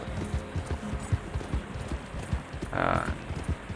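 Hooves clip-clop in a steady trotting rhythm as a horse is ridden in Red Dead Redemption 2, with a brief snort or whinny near the end and faint talk beneath.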